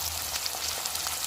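Chopped ginger sizzles and crackles in hot oil in a pan while frying for a garlic pickle, a steady close hiss with small pops.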